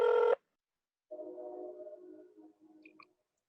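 A telephone rings through and a faint rotary or tone sequence follows as a call is placed to the police in an old radio drama: a short bright tone burst, a pause, then a longer warbling ring and a few small clicks.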